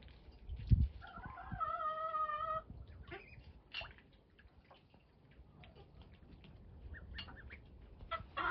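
Several chickens cluck and squawk at close range in short bursts, with a few higher calls and a quieter rustling background between them.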